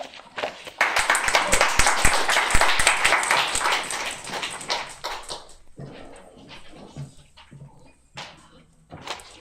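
Listeners at a literary reading series clap loudly and densely after the poet Douglas Manuel finishes. The applause peaks early, then tapers into scattered individual claps.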